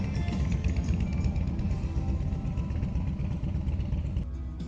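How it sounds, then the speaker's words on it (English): Motorcycle engines rumble and idle nearby as the bikes pull up, a steady low mechanical drone with faint revving, which eases slightly near the end. "then some motorcycles pulled up"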